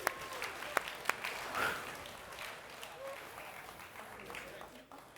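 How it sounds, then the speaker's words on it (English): An audience at a conference applauding: dense clapping with a few sharp claps at the start, settling into a softer, fading patter over several seconds. "give yourself a round of applause"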